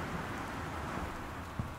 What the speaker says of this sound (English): That is a seriously loud storm going on out there.